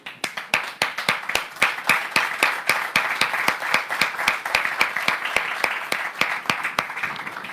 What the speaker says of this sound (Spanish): creo que es el momento de darnos un aplauso para todos